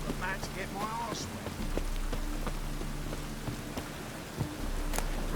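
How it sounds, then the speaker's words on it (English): Steady rain pours down in The Witcher 3, a continuous close hiss of drops hitting surfaces that runs through the whole stretch, with a few faint tonal sounds beneath it. "Rain again."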